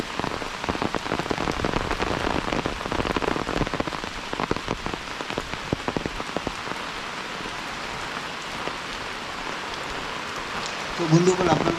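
Heavy, non-stop rain falls during a flood along the Sesa River in Assam, a loud and steady close downpour drumming on surfaces for the whole stretch.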